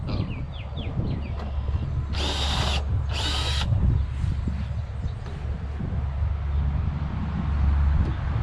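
A power drill bores through two layers of car hauler trailer metal in two short, loud, high whining bursts, with steady workshop background noise around them.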